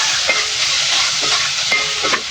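Beef steak tagalog sizzling and frying in a pan while being stirred, a steady loud hiss with a few soft scraping strokes of the spatula, no voices.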